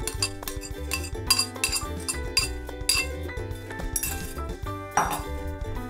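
Vegetables and beaten egg for a vegetable tortilla are stirred together in a bowl, producing rhythmic clinks and scrapes of a utensil against the dish, close and fairly sharp, with repeated strokes.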